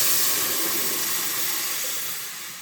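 Spices tempered in hot oil for a seafood dish give a loud, close, continuous sizzle. The hiss stays steady before fading slightly near the end.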